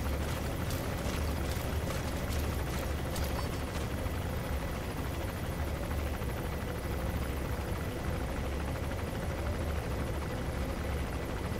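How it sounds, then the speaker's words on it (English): A helicopter in Metal Gear Solid V: The Phantom Pain thrums steadily and loudly, a constant deep rotor rumble with rapid blade chop filling the whole stretch, no talking. "Well, that helicopter hasn't seemed to notice yet"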